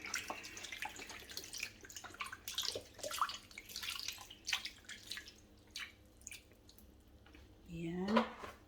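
Pineapple juice from a one-liter carton pours into a turkey hamonado pot, heard as trickling and dripping liquid at moderate volume under ongoing talk.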